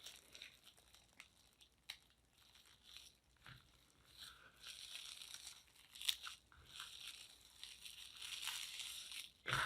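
Plastic wrap is folded in half and rolled up by hand, giving close, quiet crinkling and crackling that comes in bursts and turns denser toward the end, with no talk.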